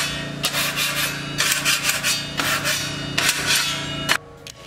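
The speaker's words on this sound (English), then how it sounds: "I used a metal drywall knife to do a sound test." Flat-edged metal drywall knife dragged across screwed drywall, giving repeated rough rubbing strokes with occasional sharp clicks as it catches screw heads, close and fairly loud with no talking.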